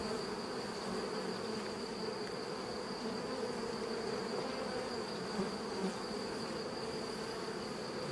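A honeybee swarm taken in May and housed in hive 6 gives off a dense, steady buzzing of many bees, close and continuous throughout with no pauses.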